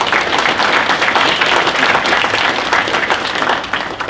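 An audience at a gun-themed Q&A panel at an NRA convention breaks into loud, continuous applause, dense clapping that holds steady across the moment before easing slightly at the end.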